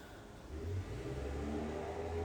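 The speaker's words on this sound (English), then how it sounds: "So cars driving by" Cars pass outside an open front door on a busy corner near a stop sign, a faint engine hum swelling as a vehicle accelerates past at a distance, steady and low.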